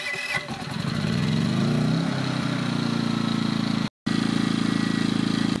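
An EcoFlow 1800W petrol inverter generator cranks briefly, then settles into a steady, even running hum with no load attached. It is close and continuous, apart from a momentary cut near the middle.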